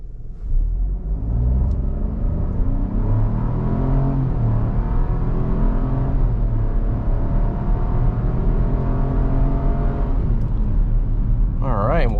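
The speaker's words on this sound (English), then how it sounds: "all we're going to do is just mash the throttle and see how fast we can go" A 2024 Chevy Trailblazer RS with a 3-cylinder engine in sport mode accelerating at full throttle, a steady heavy cabin rumble with engine tones climbing through gears, close and loud, while a voice talks over it.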